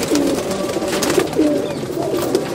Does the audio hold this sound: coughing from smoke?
no